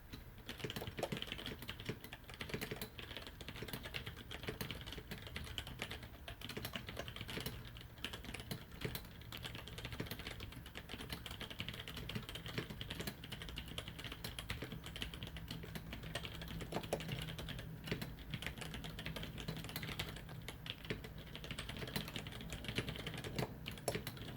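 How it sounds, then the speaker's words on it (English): Steady, continuous typing on a Winkeyless B.Face X2 mechanical keyboard with lubed Mod-H switches, soft muted keystrokes, close and even-paced throughout. "Here's a typing test. These are lubed Mod-H's."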